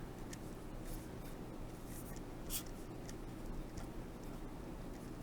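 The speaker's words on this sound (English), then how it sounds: "I'll actually write it down here." Marker or pen writing on a board during a math lesson, with faint, quick scratchy strokes in short bursts over a steady background hiss.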